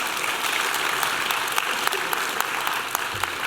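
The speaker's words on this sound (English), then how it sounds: "let's have a round of applause for Duncan Zeters" An audience at a hall of fame induction ceremony gives a warm round of applause for an absent inductee, a steady, fairly loud roar of many hands clapping at once with no voices on top.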